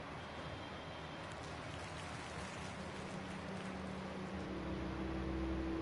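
Steady rain falls in Alan Wake 2, a dense, even patter on surfaces that stays constant throughout with no voices.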